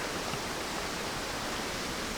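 Steady broadband rush of creek water flowing continuously along Birch Creek in the Nevada desert, a constant close wash with no distinct splashes and no voices.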